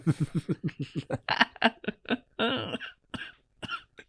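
A burst of rapid, rhythmic coughing close up, followed by a few more scattered coughs and throat sounds, with no talking.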